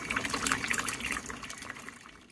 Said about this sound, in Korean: 정수기 물줄기입니다